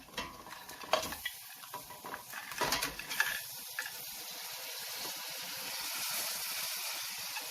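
Crabs being stirred into a five-spice sauce in a pan: several loud scraping, clattering stirs early on, then a steady bubbling sizzle that carries on alone.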